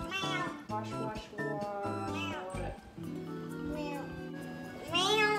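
A voice imitates a cat, giving a few drawn-out meows amid close, lively chatter in the room.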